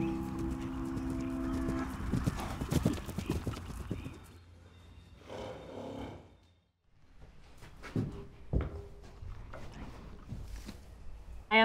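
A big, powerful horse's hooves clip-clop steadily at close range, loud at first, then thinning into a quieter stretch with a few scattered hoof knocks and some faint noise.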